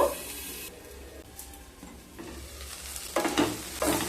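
Ginger, tomato and spices frying in a pan for kadai paneer, a soft close sizzle with a few stirring scrapes and louder bursts near the end, no talking.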